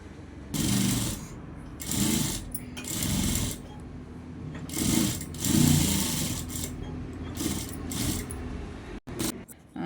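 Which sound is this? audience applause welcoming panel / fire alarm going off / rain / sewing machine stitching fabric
sewing machine stitching fabric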